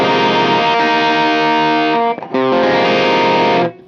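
A distorted chord rings out loudly on a Gibson Les Paul electric guitar fitted with custom humbuckers, sustained with rich overtones. It is briefly choked, then struck again and held before cutting off.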